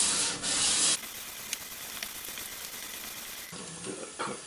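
Fine 800 grit sandpaper rubbed across a surface, a short harsh scratching burst followed by quieter soft sanding strokes and another brief rasp near the end.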